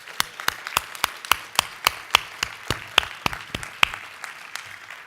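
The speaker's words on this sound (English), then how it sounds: "If we can give them a round of applause." Guests at an awards gala dinner clapping for the serving staff: sharp, distinct claps in a loose, uneven rhythm from a small number of hands, fairly close in a room.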